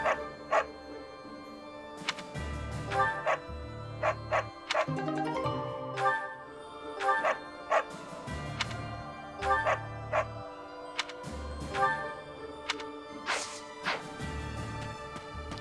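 A puppy in the video game Fire Emblem Three Houses yips and barks in repeated short bursts over a soft musical backdrop, the sharp barks spaced irregularly across the scene.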